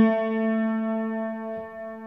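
A single sustained piano note, the A near the middle of the keyboard at 440 Hz, rings steady and clear with rich overtones, then fades slightly as a soft thump sounds near the end.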